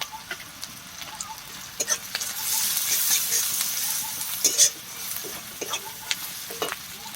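Pond-caught fish fry with turmeric and red chilli powder for a spicy fish curry, giving a steady crackling sizzle that swells midway, with sharp scrapes and clinks of a spoon stirring the pan.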